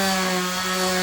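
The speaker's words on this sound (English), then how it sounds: "One final step I like to make is just to even off the whole top with the disc sander" A disc sander runs steadily against the top of a wooden garden bed, evening and rounding its edges, producing a loud, continuous whirring grind with a strong hum and no pauses.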